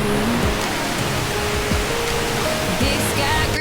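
A small waterfall on McDonald Creek in Glacier National Park gives a steady, dense rush of falling water that fills the whole stretch without a break.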